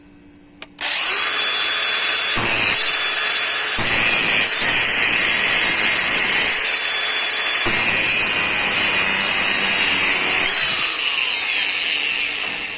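A Craftsman brushless angle grinder cuts through metal, giving a loud, close, harsh whine and grinding scream that starts abruptly and runs almost continuously, with brief dips as the tool bites and eases off. No voices.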